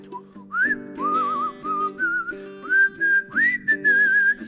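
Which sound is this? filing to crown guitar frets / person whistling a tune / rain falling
person whistling a tune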